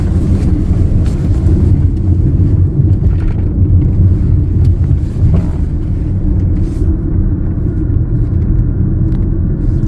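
Cabin of a Mahindra XUV 3XO AX5 AMT driving at about 75 km/h in third gear, a loud steady low road and engine rumble with some wind noise, continuous and without talk.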